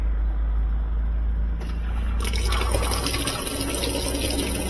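Water rushes into a high-efficiency front-loading washing machine as it begins to fill, a steady gushing flow that grows louder and fuller partway through, with a low mechanical hum underneath.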